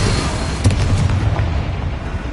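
Confringo blasting spell in the Hogwarts video game, a deep rumbling explosive burst with a booming low thump that rolls and fades over a couple of seconds, loud and close.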